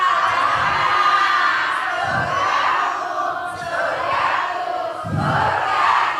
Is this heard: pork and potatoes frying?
no